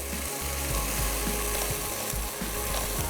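Chicken frying in a pan with browned onions, a constant loud sizzle under a low rumbling hum with faint clicking stirs, close and continuous, no talking.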